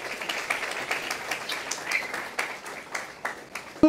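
Applause at a university admission ceremony for the first-place economic engineering student, a moderate crowd clapping steadily and unevenly, heard somewhat distant, for a few seconds.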